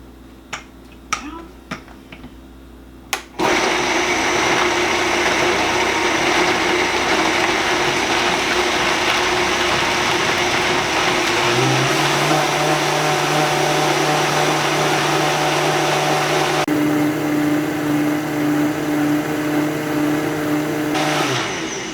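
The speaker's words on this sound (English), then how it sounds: "And let's puree it." A blender purees a cream of celery and asparagus soup with hemp seed, starting abruptly after a few light clicks and running as a loud, steady motor whir that shifts pitch partway through as the contents loosen.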